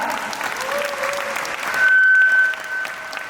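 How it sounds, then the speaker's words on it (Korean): Audience at a Naver union culture event breaks into warm applause, a dense, steady clapping from a crowd that swells briefly in the middle before easing, with a faint voice beneath. "큰 박수로 맞이해주세요."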